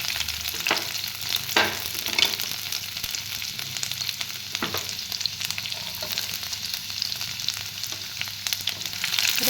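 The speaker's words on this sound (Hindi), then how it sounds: "तेल गरम हो गलानी। एबे सेतिरे मु रसुण पकेइबी।" Garlic fries in hot oil in a kadai for vegetable fried rice, making a steady close sizzle with occasional clicks and scrapes of stirring throughout.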